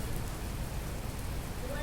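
Steady rain pours down in Dubai, a dense, even patter of drops on surfaces forming a continuous close wash of sound.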